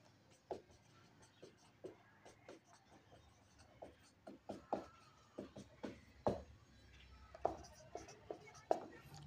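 Pen writing out a maths solution on paper, a run of short scratchy strokes and taps that grow slightly louder and denser, close up and quiet, with faint low background noise.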